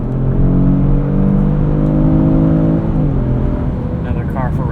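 A 2018 Kia Stinger GT RWD, set to comfort mode, accelerates hard to pass another car. Its engine note climbs steadily with rising harmonics, loud and close from inside the cabin, then eases off near the end.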